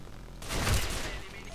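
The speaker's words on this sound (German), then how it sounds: "Ein Schuss angesetzt und das war's." A single sharp, loud gunshot blast in a team deathmatch video game bursts out abruptly, with a booming low end that rings briefly before fading into a steady background hum.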